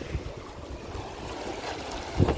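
Water sloshing against a wooden pier at the seashore, a steady wash of choppy waves with wind buffeting the microphone and a louder surge near the end.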